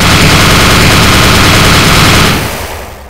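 Loud, steady roar of a Huey helicopter heard from the left gunner seat inside the cabin in Arma 3, a dense engine and rotor drone that holds constant, then fades away near the end.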